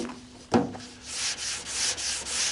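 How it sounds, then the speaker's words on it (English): Close, rhythmic scratchy strokes of sanding primer on a John Deere tractor's sheet metal hood, a sharp knock near the start, then repeated back-and-forth rasping passes. "you want to cross hatch when you're sanding primer."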